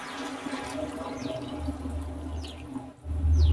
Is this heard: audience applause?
no